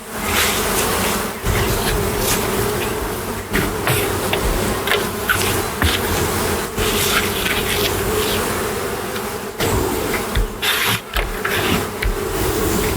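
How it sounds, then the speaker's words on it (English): Honeybees swarm at an opened hive, crawling over the underside of the lifted lid, making a loud, continuous close-up buzz and drone with only brief dips. "A swarm of bees continues working on the underside of the lid."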